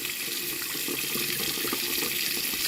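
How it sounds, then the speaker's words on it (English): Tap water runs steadily as conditioner is rinsed from a vintage Ideal Toni doll's hair in a sink, a loud, continuous hiss and splatter. "So I am rinsing out the conditioner."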